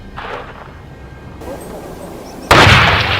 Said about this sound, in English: After a few gunshots, the boar was hit and collapsed on the spot.